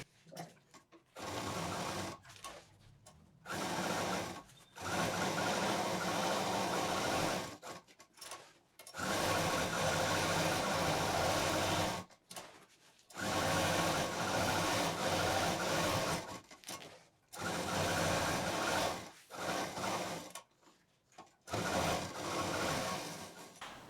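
A sewing machine stitches fabric lining onto a doormat in loud, rapid whirring bursts of several seconds each, broken by brief pauses, close to the microphone.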